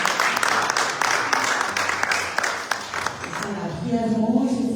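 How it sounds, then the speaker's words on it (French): Audience at a press conference in Brussels applauding, a dense, steady patter of many hands clapping, with people talking over and after it. "Applaudissez pour vous-même."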